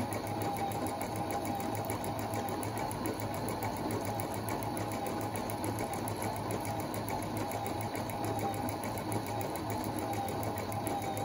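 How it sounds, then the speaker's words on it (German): A Husqvarna 230 electronic sewing machine runs steadily while sewing elastic stitches, its needle moving forward and back in a continuous fast mechanical whir and rapid ticking, close and alone for the whole stretch. "Und die Nähmaschine geht immer vorne und hinten, weil meistens das sind die elastischen Stiche."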